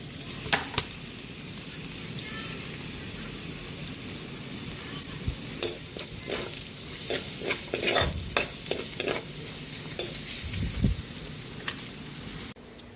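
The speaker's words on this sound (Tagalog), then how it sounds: "Pwede na natin ilagay yung sibuyas." Onions sizzling and frying in a pan, a steady close crackle with occasional stirring scrapes and clinks throughout, as part of a coconut-milk lobster dish being cooked.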